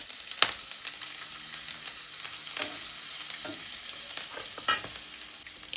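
Cumin seeds and garlic paste sizzle in hot oil left from frying bhetki fish, a steady close crackle with occasional sharper pops and stirring scrapes throughout.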